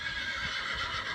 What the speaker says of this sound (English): You might hear my horse in the background.